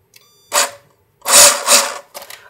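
An RC crawler's Fusion Mini 16 motor gives three short whirring bursts separated by silence, close and fairly loud, each a quick electric whine that spins up and stops.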